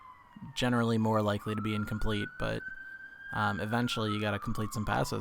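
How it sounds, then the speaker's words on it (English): A siren wails outside a window on a busy street, a long steady rising tone running through the middle of the clip, moderately loud beneath continuous close male speech. "Sorry if you hear a siren outside my window."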